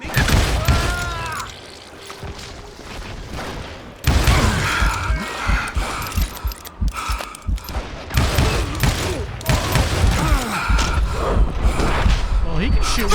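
Gunfire in the Call of Juarez: Gunslinger video game, bursts of rapid shots and booms cracking out in loud clusters, with a voice talking over the fighting.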